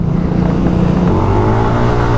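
A Yamaha Aerox Alpha 155 scooter engine revs hard at high RPM, a loud, close, steady droning whine that holds its pitch with no break and no talking.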